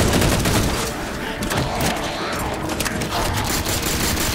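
Rapid gunfire in the video game Halo 4, loud and dense, with overlapping bursts and shots rattling continuously from start to end.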